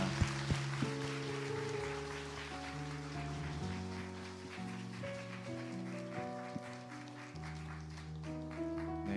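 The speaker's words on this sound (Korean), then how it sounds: "우리 큰 박수로 우리 집사님들 축복하겠습니다" A church congregation claps during an ordination service at Seoul Onnuri Church to bless newly installed deacons. Soft, patter-like clapping sits beneath sustained chords of music that change every second or two.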